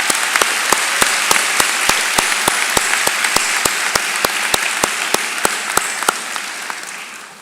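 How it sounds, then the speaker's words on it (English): Audience at a fall commencement ceremony applauds steadily for about seven seconds, a dense, loud wash of clapping with a few sharper claps standing out, fading slightly at the end. "please join me in a round of applause for your family and friends."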